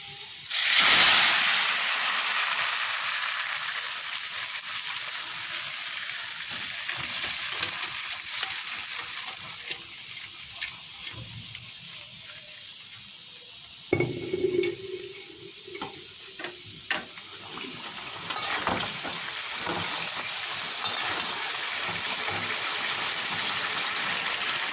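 Boiled mixed vegetables hit hot oil with fried onion and garlic with a loud initial hiss, then a steady frying sizzle continues, broken by occasional scraping and stirring clatter.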